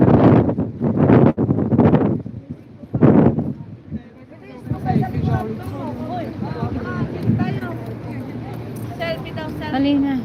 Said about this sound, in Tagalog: Pumipito yung hangin.